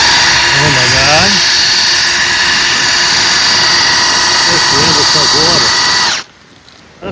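Outboard motor gearcase with a previously frozen driveshaft spun in a water bucket, giving a loud continuous high whine like a power drill that runs steadily for about six seconds then cuts off abruptly, with someone talking over it.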